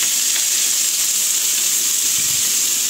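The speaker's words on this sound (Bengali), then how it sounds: "এই যে আলু কেটে নিয়েছি, আলুটা ভাজা করবো" Cut potatoes fry in a pan of hot oil, a loud, close, unbroken sizzle with no voices over it.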